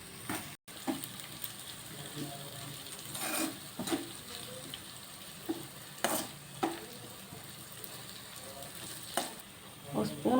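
Mango pulihora rice frying in a pan, a faint steady sizzle with intermittent scraping stirs spaced a few seconds apart, nearby and fairly quiet.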